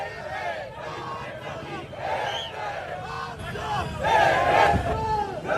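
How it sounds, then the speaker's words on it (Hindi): A large protest crowd chants political slogans in unison outdoors at a march, loud rhythmic shouted phrases rising and falling, with a surge of louder chanting near the end. "पूरा विजुअल चलाइएगा और नारे सुनिए।"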